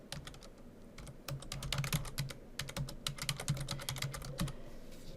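Computer keyboard typed on in a quick, uneven burst of close, crisp key clicks entering a file name, with short pauses between clusters of keystrokes.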